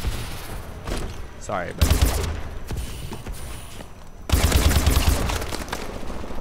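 Gunfire from a Call of Duty: Advanced Warfare match, with bursts of close, loud shots around the middle and in a heavier run toward the end, mixed with game effects and a brief spoken remark.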